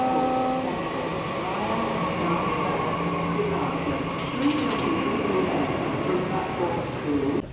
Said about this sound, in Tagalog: Parating na yung train natin.